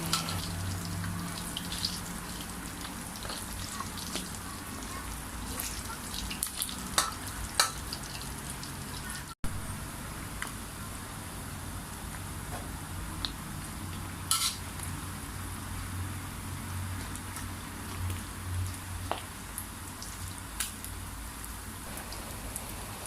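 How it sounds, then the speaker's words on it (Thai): Catfish pieces deep-fry in hot oil, a dense, continuous crackling sizzle that runs throughout, with scattered spits, utensil clinks and stirring noises close by and no speech. "เราทอดมาได้สักพักหนึ่งก็ปลาดุกก็กรอบอีกด้านหนึ่งครับ"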